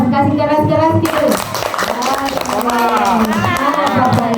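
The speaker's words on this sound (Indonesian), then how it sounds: "Tepuk tangan dulu untuk kita semua" Audience applause and clapping at a school event, loud and close, rising after a voice and continuing as a dense, steady wash of hands with crowd noise mixed in.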